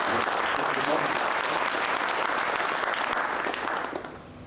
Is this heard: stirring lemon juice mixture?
no